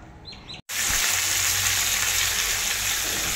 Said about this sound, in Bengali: মাছ ভাজা হচ্ছে, ছোট মাছ রান্না করব।